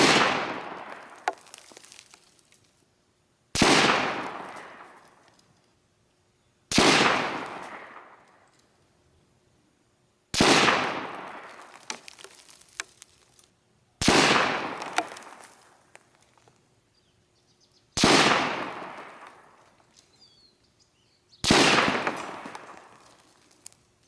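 Seven loud, sharp rifle shots from .223 and 8mm Mauser rifles striking a concrete block, fired about every three and a half seconds. Each crack rings out with a short decaying tail, and no voices are heard.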